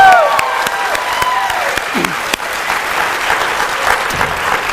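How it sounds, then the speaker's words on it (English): A live audience applauds and cheers an award winner at a freethought awards ceremony, dense clapping filling the room, with a voice briefly audible over the start. "You can cheer, I guess."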